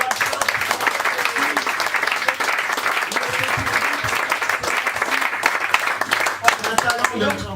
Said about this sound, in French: donc là vous pouvez l'applaudir